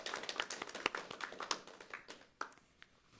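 A small group at a horse racing event interview session gives light applause, made of sparse, distinct claps that thin out over a few seconds.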